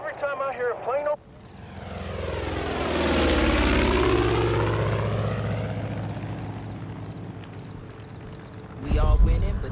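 A propeller plane in Far Cry 5 sweeps loudly overhead, its droning engine building to a peak and then slowly fading away, with brief game voices at the start and end.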